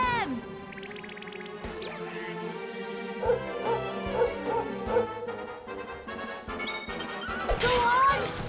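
Dog enemies in the game Dragon Quest 11 yip and bark amid battle sound effects, music and crashing hits, with someone talking over the action.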